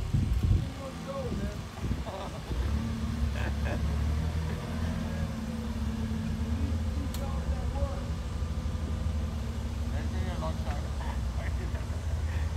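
A forklift engine idles steadily at close range, a low continuous hum with a few knocks and clatters, while people talk over it.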